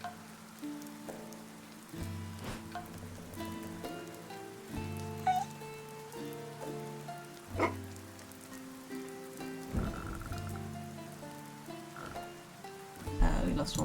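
Steady rain patters and hisses in the video game Dead in Vinland, a continuous soft wash under a game music drone with occasional sharper ticks.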